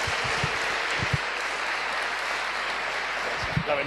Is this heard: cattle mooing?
no